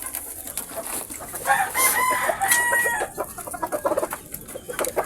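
Tethered backyard chickens, including a hen, clucking close by, a few soft clucks and squawks overlapping amid rustling background noise.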